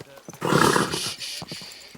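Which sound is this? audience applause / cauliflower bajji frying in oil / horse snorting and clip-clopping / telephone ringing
horse snorting and clip-clopping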